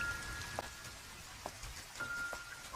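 Soft, steady rain pattering on surfaces in the animated film The Garden of Words, a quiet wash of drops with a few brighter drips and a faint chime-like ring, heard alone and fairly distant.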